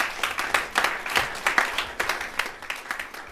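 A church congregation applauds to praise the Lord during a worship service, a steady wash of clapping with a few sharper accents that swell and fade across the moment.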